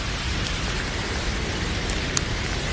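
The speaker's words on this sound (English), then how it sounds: "I'm gonna have to shelter from this rain under these trees for a minute. It's not coming down heavy, but it's coming down." Light but steady rain falls outdoors under trees in Thailand, a dense, even hiss close by with a few sharper drips standing out, and no voices.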